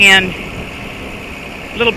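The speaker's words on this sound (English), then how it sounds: "Get that tractor." A low tractor engine idles steadily on a farm between two brief bursts of voices at the start and end, the rumble close and constant underneath.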